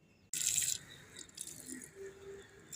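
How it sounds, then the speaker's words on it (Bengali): Water poured onto garden plants during the monsoon month of Ashar: one brief, bright splash that quickly settles into a faint trickle and a few drips, close and quiet, with no talking. "আষাঢ় মাসে গাছে জল দিতে হচ্ছে"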